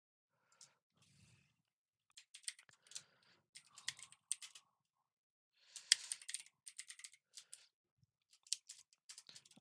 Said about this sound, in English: So if I just type that out quickly.